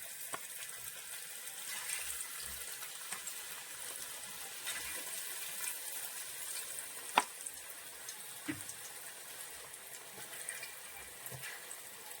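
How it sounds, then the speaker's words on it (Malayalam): Soft, steady sizzling of curry leaves frying in hot oil, quiet and continuous, with occasional faint pops and clicks. "എണ്ണ ചൂടായിട്ടുണ്ട് നമുക്കിത് വറുത്തെടുക്കാം"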